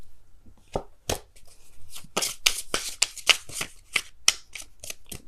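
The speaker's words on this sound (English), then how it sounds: "Can I just shuffle?" Tarot cards being shuffled by hand in quick riffling bursts, a dozen or so sharp papery flutters in an irregular rhythm, close and fairly loud, with no talking.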